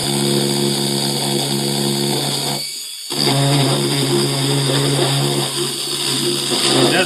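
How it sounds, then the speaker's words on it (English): A fine grain grinder polishes the cut edge of a PVC pipe with a loud, steady, high whine. It dips and stops for a moment, then starts again and keeps running. "I'll take a couple of fine grain grinders and just kind of polish it up"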